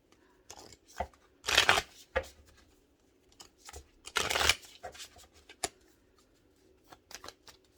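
Blessing cards being shuffled by hand, two bursts of riffling flutter, each about half a second long, plus scattered soft taps and slides of the cards in a quiet room.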